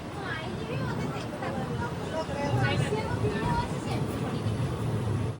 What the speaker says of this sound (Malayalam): മാനാമധുരൈ ജംഗ്ഷനിലേക്ക് ഇതാ ട്രെയിൻ എത്തുകയാണ്